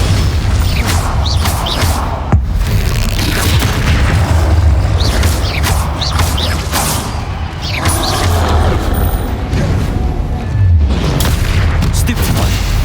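In Hogwarts Legacy, Bombarda blasting spells go off as repeated loud booming explosions mixed with crashing debris and combat effects. The bursts are dense and overlap, and voices cast spells over them.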